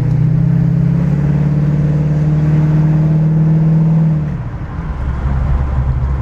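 A 1965 Ford Mustang Fastback engine roars loudly as it accelerates on open road, a deep sustained drone that drops and shifts as the revs change.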